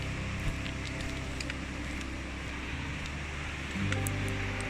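Castleguard River rushing through a narrow canyon in Banff National Park, a steady broadband roar of whitewater that stays constant and fairly close throughout, with no voices.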